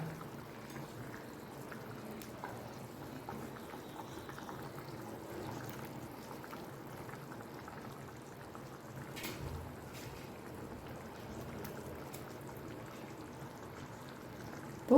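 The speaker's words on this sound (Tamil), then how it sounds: "இந்த தண்ணியை கீழே ஊற்றிட்டு சும்மா இன்னொரு தடவை வந்து கழுவி எடுத்து வந்துக்கலாம்" Water is poured out while dried anchovies are rinsed in a home kitchen, a soft continuous trickling and splashing at low level, with faint clinks and no speech.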